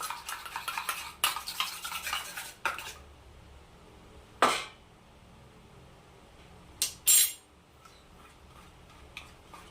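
A spoon stirs a rice flour face pack in a small bowl, giving quiet scraping and clinking strokes in short bursts, with a couple of louder knocks against the bowl separated by near-silent pauses.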